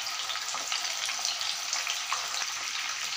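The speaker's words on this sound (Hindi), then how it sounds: "तो जैसे ये थोड़ा सा इधर फ्राई हो जाए इसको हम टर्न कर लेंगे" Mushroom pieces for mushroom manchurian fry in hot oil with a dense, even sizzle that fills the whole stretch, with no talk.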